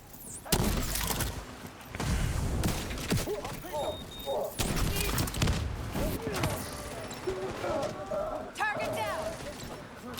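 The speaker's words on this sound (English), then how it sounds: "Why is everything exploding?" Explosions and gunfire in a video game: repeated heavy booms and thuds punctuate a busy battle mix, with people talking over the action throughout.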